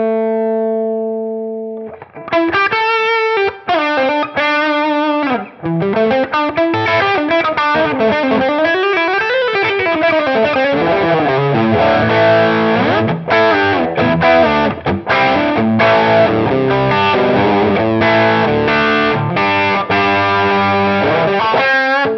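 Electric guitar played through a cheap $27 Dumble-style distortion pedal, a sustained overdriven tone with sliding bends and dense chords after a soft opening note, loud and continuous with no talking.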